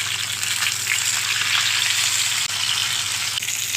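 Paarai fish fries in a pan after being flipped, with a loud, dense and unbroken sizzle of hot oil heard up close.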